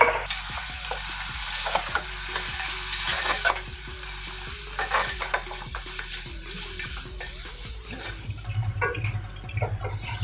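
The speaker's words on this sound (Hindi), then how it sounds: "चिकन को इसमें हम 5 मिनट के लिए फ्राई कर लेंगे।" Half a kilo of chicken, cut into six pieces, fries in a pan for Hyderabadi dum biryani, a steady close sizzle with repeated scraping and stirring strokes throughout, no talk.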